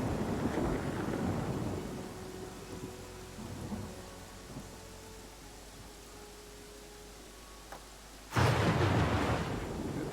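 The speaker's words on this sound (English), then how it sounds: "It's raining, it's pouring" Steady rain with rumbling thunder, a heavy downpour hissing across the surface, a long low roll of thunder fading out, then a sudden loud burst of rain and wind noise near the end.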